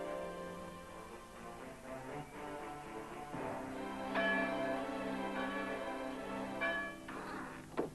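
A bell rings in an animated 1990 cartoon, ringing strikes repeating with long, resonant overtones that overlap and decay, fairly strong and sustained with no speech.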